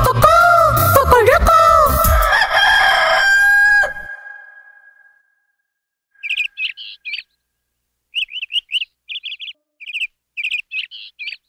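A rooster in a Bengali children's cartoon gives a long, loud cock-a-doodle-doo that fades out, followed after a pause by bursts of quick, high chirping calls from the chickens.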